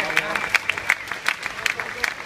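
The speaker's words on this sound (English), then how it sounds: "please give another round of applause for the Manchester Show Choir" Crowd applause for a show choir at a festival, with distinct individual claps popping out of a steady wash of clapping, with speech also present.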